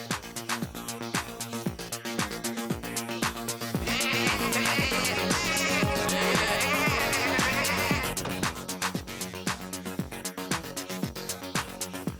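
Cartoon sheep bleat over bouncy animated-series music with a steady rhythmic beat, a chorus of bleats swelling loudly through the middle before fading back into the tune.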